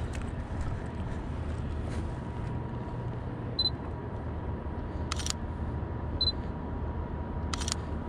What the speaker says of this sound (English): I want to take a photo of you.